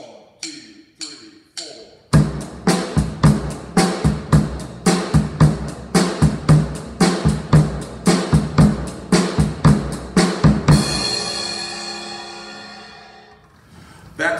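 A rock drum beat with a heartbeat-groove bass drum pattern starts after a brief lead-in, with steady punchy kick and snare hits under ticking cymbals, close and loud, ending on a crash that washes out.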